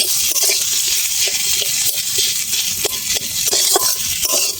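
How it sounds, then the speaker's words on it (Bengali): Potatoes fry in a little oil with roasted ground spices while being stirred in a pan: a continuous close sizzle broken by repeated light scrapes and clinks of the spoon, with no talk. "ভেজে নেবো আলুটা।"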